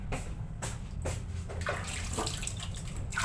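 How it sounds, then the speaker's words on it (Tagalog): Tap water runs steadily as hands are washed at a sink in a mall restroom, a continuous splashing hiss close by with small fluctuations as the hands move through the stream. "Hugasan muna ng kamay"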